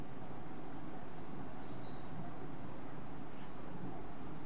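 Marker or chalk scratches across a board in a maths class on triangles, a few faint squeaky strokes over a constant hiss of room noise.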